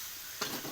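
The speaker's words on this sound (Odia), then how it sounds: "ଇଏ ଓଲୁଅ ଚଟଣି ବଘରା ହେଲା।" Tempering sizzling in hot oil for a yam chutney, a brief steady hiss that surges louder midway with a light stir.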